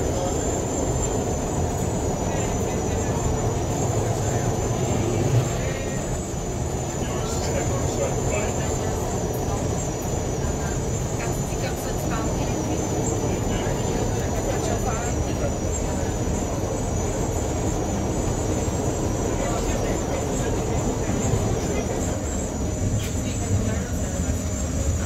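Riding aboard Montreal's new REM elevated light rail train, a steady loud rumble of wheels and motors with a constant high whine runs throughout, and voices murmur underneath.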